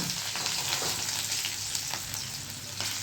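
Capsicum and garlic crackle and sizzle in hot oil, a steady dense frying hiss with a few stirring scrapes, close and fairly loud.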